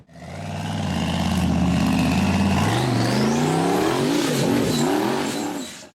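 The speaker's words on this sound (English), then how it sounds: "The buggy accelerated and tried to make it up a steep forest trail filled with large rocks" A red off-road buggy accelerates hard up a steep, rocky forest hillside, its engine close and loud, revving and rising in pitch with wavering bursts as it strains over rocks.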